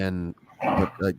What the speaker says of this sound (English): That's my dog. I'm sorry.